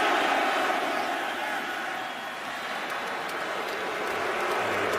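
A stadium crowd boos kicker Josh Brown at a St. Louis Rams–Seattle Seahawks NFL game, a steady, dense roar of many voices filling the whole stretch at an even, loud level.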